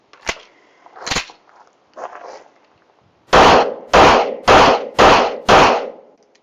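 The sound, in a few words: gunshots from a Tisas PX-9 GEN3 pistol during a function test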